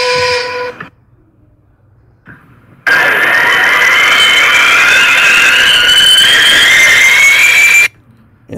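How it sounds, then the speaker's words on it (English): A long, loud rising squeal, like a whistling slide-whistle cartoon effect made in GarageBand, sustained for several seconds between brief quieter moments of other noise. "So, I added the cartoon sounds,"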